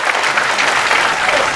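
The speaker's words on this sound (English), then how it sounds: "Yeah, but why are you clapping?" A crowd at a gathering bursts into brief, dense clapping, loud and continuous across the short stretch.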